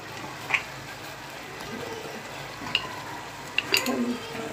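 Cabbage pakora batter mixed with spices by hand, giving soft, wet squelching and stirring sounds that run steadily with a few sharper clicks, close and moderately quiet.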